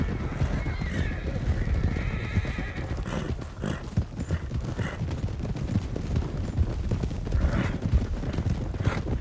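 Horses whinny and neigh amid fast clip-clop hooves of galloping in Red Dead Redemption 2, with scattered gunshot-like cracks and a busy, loud game-style mix.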